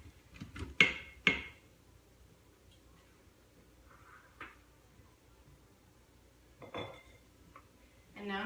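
Diced green, yellow and red peppers tipped into a cooking pot for homemade bourbon BBQ sauce, giving a few sharp clattering knocks and scrapes up close, then quiet stretches with faint kitchen clicks.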